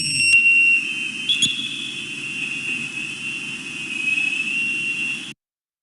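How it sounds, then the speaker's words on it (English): Navy sonar recorded underwater produces a piercing, steady high-pitched tone with a sharp metallic edge, sustained for several seconds over a low hiss, with a brief click partway through. "That was the Navy sonar that was causing so much grief about 20 years ago."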